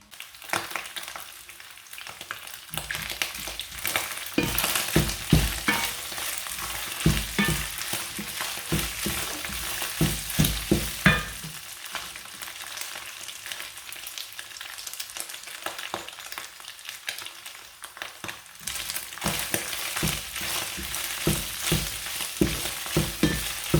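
Beef frying with onions for a samosa filling crackles and sizzles in a pan, a busy spattering texture with frequent stirring scrapes that swell and ease over a long stretch, without any talking.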